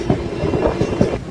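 Passenger train 05509 running from Saharsa to Jamalpur, a steady loud rumble and rattle of the carriages with rhythmic low thumps from the wheels, continuous throughout.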